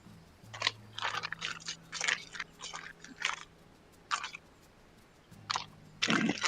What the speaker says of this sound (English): It sounds like you're rustling around with things, but it also kind of sounds similar to like crunching on chips or something.